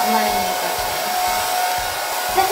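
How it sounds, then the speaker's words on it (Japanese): A hair dryer blows continuously and close while drying and styling hair backward during a salon-style haircut, its steady whooshing airflow rising and falling slightly as it moves around the head. "後ろに向かって乾かしていきます。"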